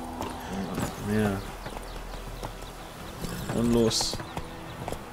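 Horse hooves clip-clop in The Witcher 3 as two short bursts of quick hoofbeats, moderately loud, with game ambience underneath and someone speaking briefly over them.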